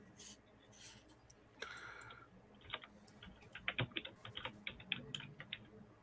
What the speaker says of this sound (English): I was waiting to hear the clicking of a keyboard for someone looking it up.